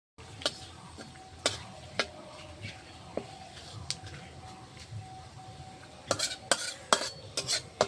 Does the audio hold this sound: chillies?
yes